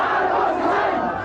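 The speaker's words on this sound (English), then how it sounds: "the people cheering them on with the slogans and victory signs of Aquino echoing behind them" A large crowd cheers and chants slogans as tanks return to base after a peaceful political upheaval, a dense, loud, continuous roar of voices throughout.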